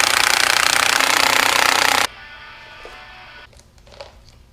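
A spring compressor tool squeezes a car strut spring during a strut and spring replacement, giving a loud, steady rattling impact-driver burst for about two seconds before cutting off to quiet clicks and faint handling noises.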